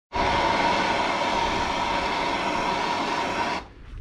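A propane torch roars with a loud, steady hiss for several seconds close by, heating front brake parts on a 2009 Toyota Camry, then is abruptly shut off.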